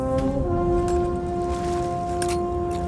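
In the pirate video game Sea of Thieves, a horn blows one long, steady, reedy toot that holds its pitch the whole time over a low, rumbling background.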